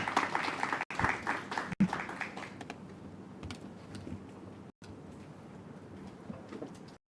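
Audience applause at a high-level investment roadshow in Cape Town, steady moderate clapping from a crowd in a hall that thins out and lingers faintly toward the end.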